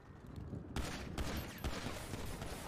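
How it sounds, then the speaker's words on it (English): Gunshots fired into the air in a GTA RP street scene, a few sharp cracks over a dense, noisy game background, one stronger report near the start and another later, fairly close. "Oh, this nigga is shooting in the air, gang."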